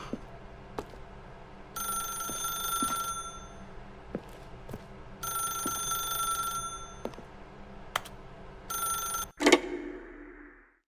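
Telephone in The Stanley Parable video game rings in repeated bursts, separated by pauses and sharp clicks, before a final louder clatter as it is picked up.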